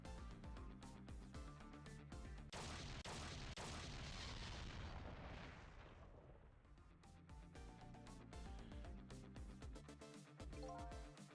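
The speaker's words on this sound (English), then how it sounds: "I think I heard an explosion somewhere." A heavy explosion rumbles through a room in Ghost Trick: Phantom Detective, a loud broadband blast swelling for a few seconds under a dense game score before fading back into the music.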